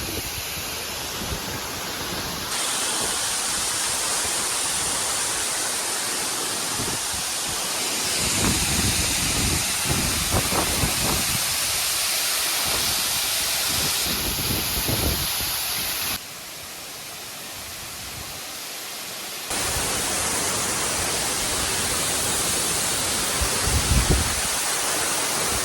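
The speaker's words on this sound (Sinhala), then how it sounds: "සූදාගල ඇල්ල." Sudagala Ella waterfall in Kuruwita, Sri Lanka, pours as a steady, loud broadband rush close by, with water splashing and no talk.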